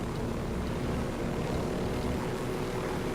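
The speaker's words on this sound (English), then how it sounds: "really do prefer bopping along in a helicopter" Helicopter flying in the video game Ghost Recon Wildlands, a steady, close rotor-and-engine drone holding an even level throughout with no voices over it.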